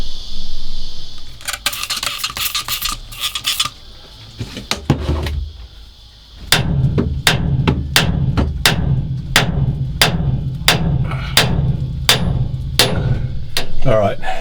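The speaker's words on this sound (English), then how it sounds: "so I'm using this to spread the post a little bit, and then I'm just hammering it upwards." Hammer blows strike a steel post aboard a steel trawler, driving it upward: scattered knocks first, then a steady series of about a dozen sharp, ringing metallic strikes at an even rhythm, close and loud.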